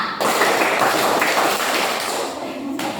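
Children at a Sunday school in GKS Wai Wei, Lindi Monung, clap hands in a clapping game: a few sharp, fairly loud slaps spread across a noisy room, mixed with chatter from the group.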